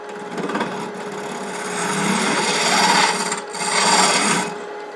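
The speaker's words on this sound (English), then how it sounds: "we're going to go ahead and true it up a little bit using the spindle gouge" A spindle gouge trues up a wood blank on a lathe for a rook chess piece box, close and loud with a constant spinning whine under swelling scraping cuts that rise and fall in two long passes.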